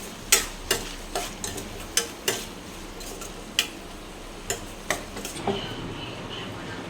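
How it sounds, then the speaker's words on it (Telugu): Wheat flour dosa batter being mixed by hand or spoon in a bowl, a run of regular wet slaps and taps roughly twice a second, close and fairly loud, with no talk over it. "ఇదండి, పిండిని ఈ విధంగా దోశ పిండిలా కలుపుకుందాము"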